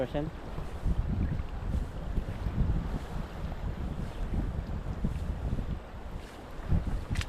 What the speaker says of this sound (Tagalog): Nadagundong yung agos eh.